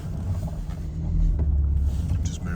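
A Volkswagen Golf R Black Edition hatchback with a petrol engine, DSG gearbox and 4Motion idles close by, a low steady rumble with slight swells as the car creeps forward.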